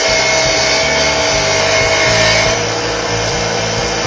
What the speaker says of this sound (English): Grinder's starting to get hot.